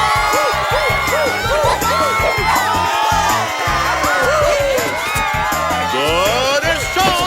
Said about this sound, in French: Maintenant, on applaudit très fort pour accueillir nos deux équipes qui sont l'école Ridel et l'école Cosmos.